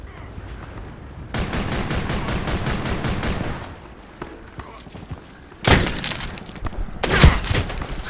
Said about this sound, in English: Okay, it looks like a machine gun.